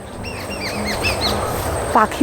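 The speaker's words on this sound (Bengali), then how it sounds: "ঝাউবনে পাখির আওয়াজ রয়েছে শুধু" Birds call in a casuarina forest beside Dublagadi sea beach: scattered thin chirps and short whistles at moderate distance over a soft steady background, with a brief louder knock at the very end.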